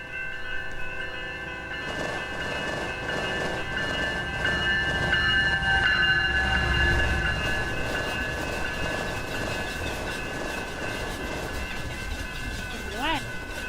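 A grain train passing in Roblox, a long rumble of rolling wagons with clattering wheels and sustained horn-like tones, loud and steady throughout, with a voice speaking briefly over it.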